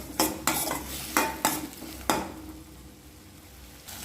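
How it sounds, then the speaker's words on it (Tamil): Tomato, onion and dried red chilies sautéing in a pan, a series of five sharp utensil scrapes and clatters over a low sizzle, then the frying continues quietly on its own. "இதெல்லாம் ஒன்றா சேர்த்து நல்லா வதக்கிக்கிறேன்"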